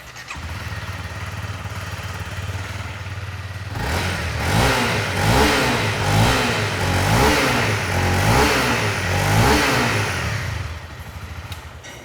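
A Honda CRF250L motorcycle with its stock exhaust idles with a low steady rumble, then revs repeatedly in loud rising bursts for several seconds before settling back to idle.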